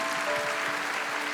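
A church congregation claps during a night of worship service, a brief burst of dense, even applause filling the room with no distinct voices.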